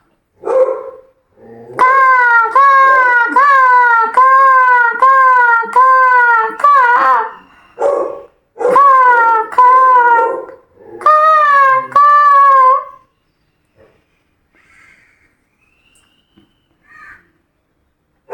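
A performer imitates a crow cawing, producing loud, harsh, repeated caws in quick rhythmic runs, two long bursts and a shorter one, close to the microphone before falling quiet.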